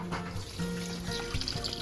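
Melted jaggery pours into a pan of ghee while cooking sago pudding, a quiet liquid trickle and gentle splashing heard close up, with faint kitchen background and no talk.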